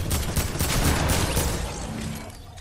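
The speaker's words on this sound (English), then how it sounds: "They're shooting me." Rapid gunfire in the video game Fortnite, a dense, continuous burst of overlapping shots, loud and close, tapering off toward the end.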